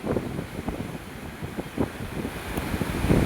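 Floodwater from the overflowing Madhuvanti river after heavy rains rushes steadily, heard outdoors through heavy wind buffeting on the microphone with an irregular rumbling surge.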